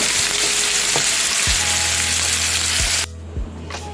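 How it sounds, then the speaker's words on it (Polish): Hot oil sizzles loudly and steadily as chicken breast fries in a pan, with a few soft knocks from the pan, then the sizzle drops away abruptly near the end. "wkładamy pierś kurczaka i smażymy na złoty kolor"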